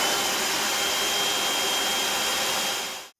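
A kitchen blender on its puree mix setting whirs with a loud, steady roar while churning homemade butter, then cuts off abruptly at the end.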